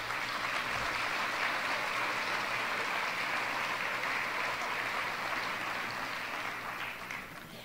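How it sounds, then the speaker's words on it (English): Sustained round of applause from a school board gathering welcoming new staff: dense, even clapping from many hands, moderately distant, holding steady and easing slightly toward the end. "if we just could give them a round of applause and welcome them"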